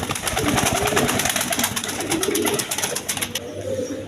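Pigeons for sale coo in low, throaty bursts close by, several birds overlapping in a busy, pulsing chorus that thins at the end.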